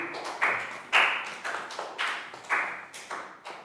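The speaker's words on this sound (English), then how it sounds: "Big round of applause for Chu." A classroom of young children claps for a classmate in an English lesson, with loud, distinct handclaps falling in a fairly steady rhythm about twice a second.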